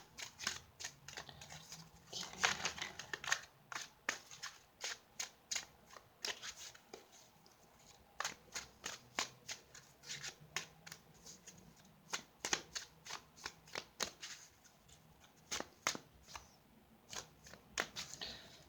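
Tarot cards are shuffled by hand in quick, crisp riffling bursts. The soft flutters and snaps repeat steadily throughout, close and fairly quiet, with no talking.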